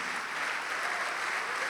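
A church congregation applauding together, a dense steady wash of clapping that holds even and unbroken from start to finish at moderate level.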